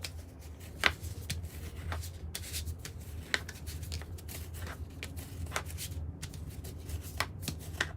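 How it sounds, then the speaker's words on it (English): Stiff paper being smoothed out with a bone folder during a paper craft session, a steady close-up rubbing and scraping with soft crackles and occasional sharper ticks, quiet and continuous with no talking. "So we're going to start off with smoothing it out with the bone folder."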